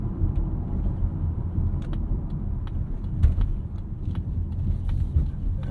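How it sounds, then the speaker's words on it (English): Road noise from a 2023 Mazda CX-50 crossing a rough ride section, a steady low rumble with scattered bumps and knocks, including a couple of sharper thuds near the end, heard from inside the cabin. "going over the rough ride section here"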